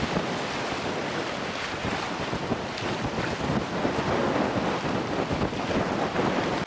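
A sailing yacht runs downwind under genoa in strong wind off Poole. Steady roaring wind buffets the microphone while waves rush against the hull, loud and unbroken, with no voices.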